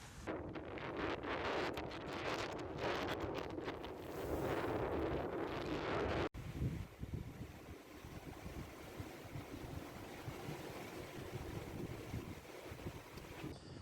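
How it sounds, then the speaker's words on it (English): Strong squall wind buffets a reefed sailboat at sea, a loud roaring gust with heavy microphone wind noise, then a steadier rush of wind and water against the hull. "One of the squalls has finally hit us."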